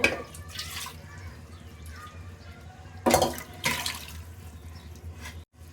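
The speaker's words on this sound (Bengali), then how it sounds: "এখন পরিমাণ মতো পানি দিয়ে দেব।" Water splashes into a cooking pot in two short pouring bursts, close by, over a steady low background hum.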